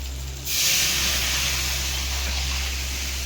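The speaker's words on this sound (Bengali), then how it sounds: "ডালটা ঢেলে দিচ্ছি।" Lentils poured into a hot oiled pan in a home kitchen, where fried spices are already cooking, set off a sudden loud, steady sizzling hiss that holds for several seconds over a low background hum.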